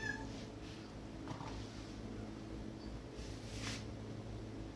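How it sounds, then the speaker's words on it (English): Navi, a pet cat, gives a few faint, brief meows against a steady background hum, with no talking over them. "This is my cat, Navi."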